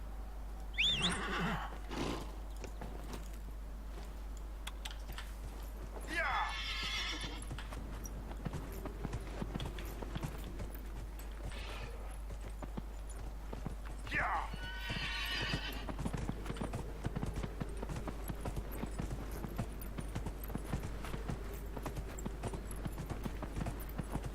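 A horse in the video game Dragon Age Inquisition gallops with a steady, continuous drumming of hooves and gives several loud neighs, close and prominent over a constant low hum, with no talking.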